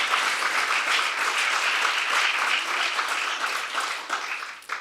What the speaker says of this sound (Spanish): Dale un aplauso fuerte, hermano, al Dios Todopoderoso